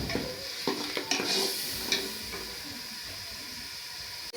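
Tamarind water poured into a pot of chicken biryani hisses and sizzles over high heat, with a few faint clinks and stirring sounds, then a steady soft steam hiss.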